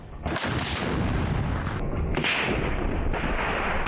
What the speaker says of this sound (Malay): kelihatan pejuang Al-Qassam menyuruk di antara pohon zaitun dan melepaskan tembakan jarak dekat untuk memusnahkan kereta kebal Merkava Israel